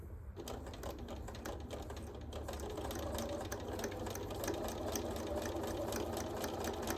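Sewing machine stitching a lapped zipper runs at a steady, rapid mechanical clatter after a brief start, continuous and close for several seconds with no talking.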